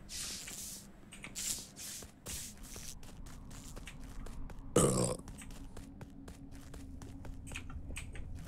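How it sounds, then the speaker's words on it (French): A loud burp goes straight into a microphone partway through an online Among Us game voice chat. It is a single, brief, close burst amid faint shuffling and handling noises. "C'est qui, gros dégueulasse, qui a roté, là?"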